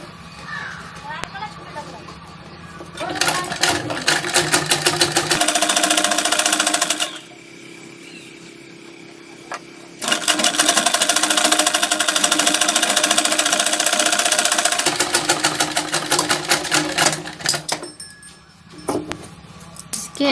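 A sewing machine stitches small fabric scraps into a back design in loud bursts of rapid clatter, stopping and restarting several times, with someone talking in the pauses between runs.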